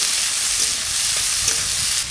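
Potatoes, garlic, green chillies and radhuni spice sizzle in hot oil in a home kitchen, a steady loud continuous hiss with no pauses.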